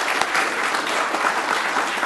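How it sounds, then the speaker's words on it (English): Audience applause fills a conference hall at a welcome and opening-remarks event, steady, dense clapping from a crowd that continues without a break for a couple of seconds. "a special round of applause"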